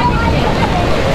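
Ocean surf at a beach in Mauban, Quezon, a steady broadband wash of waves filling the scene loudly and continuously, with faint voices mixed into the roar.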